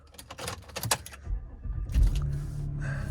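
A 2008 Volvo SUV with a six-cylinder engine starts up: clicks and a short crank give way to a steady, low idle hum, close and moderately loud, with no talk.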